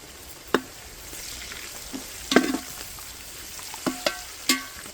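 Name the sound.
curry leaves frying in a pan for fish curry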